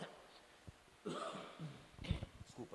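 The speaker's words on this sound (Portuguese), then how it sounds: "desculpa, fiquei com pigarro agora." A man leading a Bible study clears his throat several times in quick, rough bursts, close to the microphone, with some faint speech around it.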